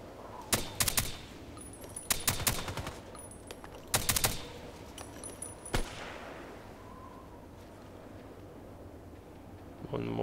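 Suppressed Vintorez rifle shots in a video game ring out in several sharp bursts of two or three reports, spaced through the first six seconds, with faint game ambience and low talk underneath.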